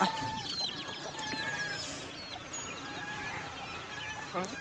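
Several hens cluck and squawk nearby in an agitated, overlapping chorus, with other birds and some voices faintly in the background.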